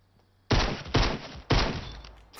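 Three loud, sharp sniper rifle shots in the Fortnite Battle Royale video game crack out in quick succession, each with a short, booming tail.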